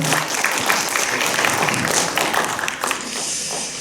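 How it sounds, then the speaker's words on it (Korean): Audience applause at a cultural-centre history lecture in Bucheon, a dense crackle of many hands clapping steadily and loudly, easing slightly near the end. "서로 얼굴 보면서 서로에게 박수 한번 부탁드리겠습니다."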